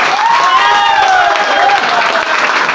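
An audience at a home meeting claps steadily, with a whistling or cheering voice rising and falling over the continuous dense clapping.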